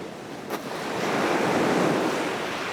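Ocean waves break on the shore in a steady, broadband wash that swells louder after the first second and keeps rushing on, with wind noise and no voices.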